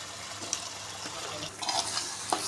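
Sizzling and stirring as a kilo of washed, large-cut chicken pieces goes into hot oil for a home-style chicken biryani, a steady close hiss with brief clinks and scraping bursts, no talk.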